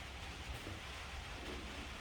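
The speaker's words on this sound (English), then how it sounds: "Today's kind of a rainy day out in Iowa." Steady rain falls outdoors on a cool day in Iowa, a continuous even hiss with a low rumbling undertone and no voices.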